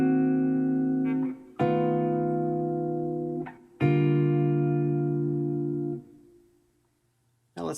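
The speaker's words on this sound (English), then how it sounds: "a simple chord progression played on a guitar" Guitar chords ring out, three sustained strums each letting sound for about two seconds before the next, then fading to near silence with a brief touch at the very end.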